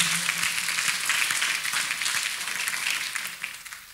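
A church congregation applauds together, a dense, steady wash of many hands clapping that fills the space and tapers slightly toward the end.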